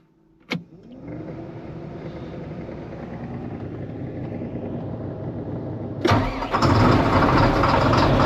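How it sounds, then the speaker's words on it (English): A tractor engine cranks with a sharp click, then catches and settles into a steady idle. A second engine starts near the end and adds a louder, rougher layer of running noise close by. "I'm gonna starting all the tractors up to let them run."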